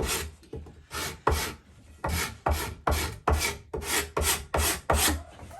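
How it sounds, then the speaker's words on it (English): A dovetail saw scores a crisscross pattern into painted wood, about a dozen rhythmic rasping strokes, close and loud, each a short scraping burst with brief pauses between. "So I'm just scoring them, you know, with my dovetail saw."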